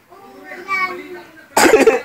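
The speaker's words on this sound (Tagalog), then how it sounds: "Maras tayo inuubo, ah." A burst of coughing from people, loud and close, arriving suddenly after a stretch of quiet talking and repeating in a few rough hacks at the end.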